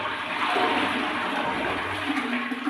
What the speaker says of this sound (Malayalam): ഇതുപോലെ ഒന്ന് ഫ്ലഷ് ചെയ്ത് കഴിഞ്ഞാൽ